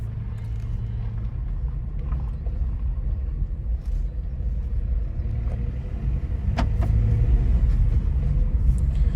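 Low engine rumble inside a Volkswagen Up with a five-speed manual gearbox as it pulls away, a steady close drone that grows a little louder toward the end, with a few faint clicks.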